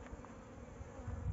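Honeybees from a swarm buzz steadily around a hive box as its lid is closed, a low, continuous hum that swells slightly toward the end.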